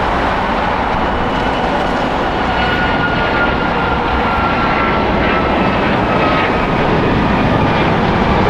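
A jet airliner roars down runway 25 right at LAX on takeoff, a loud continuous broadband engine rumble that holds steady and swells slightly toward the end.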